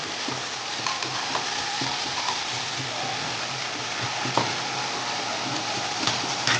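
Chicken biryani ingredients with tomato are stirred and mixed in a pot, giving a steady, close scraping and sizzling texture with a few soft knocks throughout. No one speaks.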